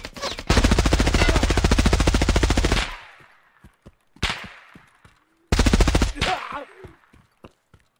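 Automatic weapon fire in Escape from Tarkov on the Interchange map: a long, loud sustained burst, then a short burst and a third burst, with sharp scattered shots and echoing tails between them.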